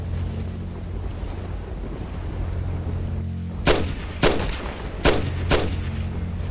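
Four sharp gunshots from the shooter game S.T.A.L.K.E.R. Shadow of Chernobyl crack out at uneven intervals over steady wind-like ambient noise, each loud and abrupt.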